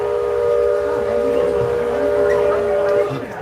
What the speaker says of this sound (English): Pardon the whistle if that's blowing in your ear.